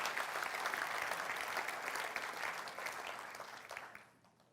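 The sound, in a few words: applause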